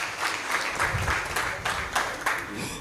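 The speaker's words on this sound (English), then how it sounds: "Round of applause for them, ladies and gentlemen." Steady applause from a crowd, sustained and fairly loud, with dense overlapping claps throughout.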